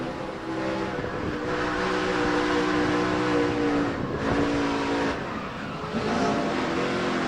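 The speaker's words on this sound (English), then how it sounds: "let's listen to his throttle" Tony's racing truck engine in a 2005 Quaker Steak & Lube 200 race, a steady roaring drone with the throttle easing off and coming back on, the pitch dipping and rising, mixed with other trucks' engine noise.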